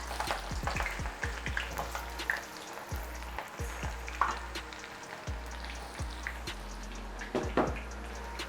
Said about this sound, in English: our oil has come to a boiling point, and then we're going to put in our onion first